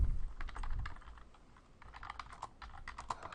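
Typing on a computer keyboard while entering text into a table, a steady patter of quiet, close key clicks with short pauses, and no voice.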